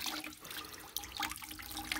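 Water running and trickling out of a Milwaukee M18 brushless impact wrench, a close, uneven splashing stream with no voices.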